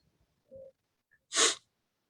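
A short intake of breath, then one sharp, explosive sneeze close to the listener, with quiet around it.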